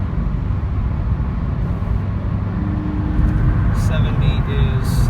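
A 2017 Toyota 86 cruises at 60 mph and 3,000 RPM, its steady low engine and road drone filling the cabin continuously at an even level, with a faint tonal whine rising briefly near the end.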